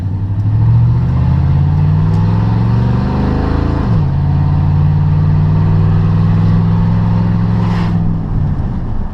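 A 1998 Chevy K1500 pickup with an LS engine swap revs up, the pitch climbing before dropping sharply, then settling into a loud, steady, deep idle rumble close by, with no talking.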